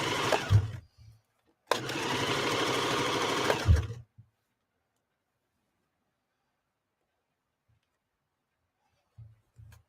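A sewing machine stitching a jacket in couch-like upholstery fabric: one short whirring burst, then a longer steady run of about two seconds with rapid needle rhythm, close, followed by silence and faint knocks.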